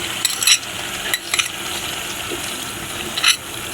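Peanut paste goes into broiler chicken frying for a white bhuna curry, giving a loud close sizzle with a few sharp scraping clinks from a spatula at irregular intervals.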